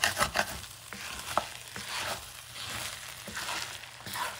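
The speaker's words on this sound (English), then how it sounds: "Going to stir this a little bit more." A spoon stirs thick Creole-style jambalaya in a pot, with scraping strokes at irregular intervals over a soft, steady sizzle of cooking.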